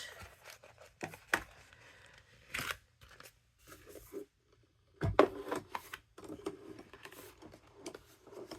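Scissors cut paper flower pieces for a handmade card in scattered close snips and crunches with quiet rustling and pauses between cuts, and no voices.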